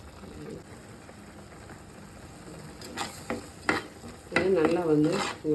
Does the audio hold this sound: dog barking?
no